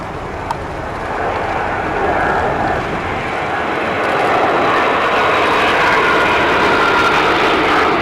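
German Army NH90TTH helicopter flying a display at an air show, a loud, steady broadband engine and rotor roar that builds slightly toward the end and carries on alone without pause.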